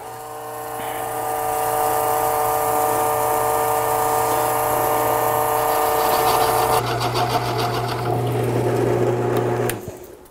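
A wood lathe turns a shaving brush handle with a steady close motor whine and hum, joined partway by a rougher buzzing texture of cutting or sanding before spinning down at the end.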